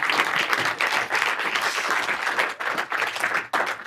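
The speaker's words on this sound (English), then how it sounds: "As I ask the panel to leave the stage, would you give them a round of applause" An audience at a national manufacturing summit applauds a departing panel: dense, even clapping from a crowd filling the hall, sustained without pause.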